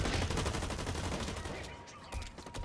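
Rapid gunfire from the online shooter Blacklight Retribution, a dense stream of shots close up and loud for nearly three seconds, thinning briefly before bursting again at the end.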